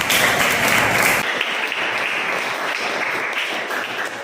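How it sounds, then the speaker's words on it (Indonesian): A class of students in a sociology lesson claps together in a dense, loud burst that drops after about a second and then goes on as lighter, steadier applause to the end, with no one speaking over it. "Oke, baik, kita berikan tepuk tangan."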